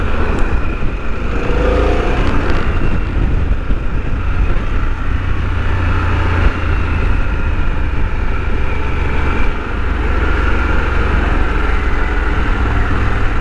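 Harley-Davidson Pan America motorcycle engine rumbling steadily while ridden at low speed, a loud continuous low-pitched drone with wind noise running through the whole stretch and no talk.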